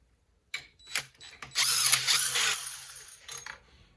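A ratchet loosens the piston stop on a 1975 Triumph TR6 engine, giving a few close, sharp clicking bursts and then a longer run of rapid ratcheting clicks that taper off. No one speaks.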